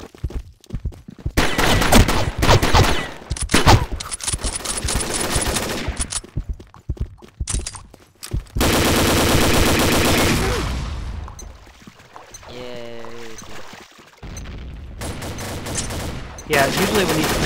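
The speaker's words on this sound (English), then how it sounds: "Alright, somebody shot." Loud gunfire in a Combat Arms clan war match, bursts of rapid shots separated by short silences, with other game sounds and some voices mixed in.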